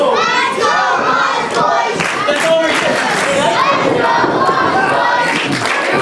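A wrestling crowd at a tag-team match cheers and shouts steadily for the whole stretch. The noise is loud and dense, with a few voices rising above the roar.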